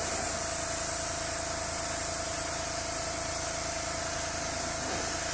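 Airbrush spraying thinned Vallejo Model Air paint gives a loud, continuous, even hiss with no pauses and no talk.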